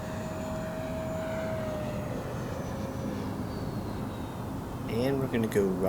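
FMS 64mm Futura Sport Jet, a radio-control model jet with a ducted fan, flying overhead in a steady whine that drifts lower in pitch as it passes, over outdoor background noise, with a brief rustle near the end.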